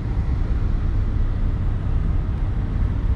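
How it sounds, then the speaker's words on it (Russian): Ferry engines idling and warming up at a port before departure for Trelleborg, a steady, loud low rumble that fills the whole stretch without a break, with no talk over it. "Двигатели прогревают."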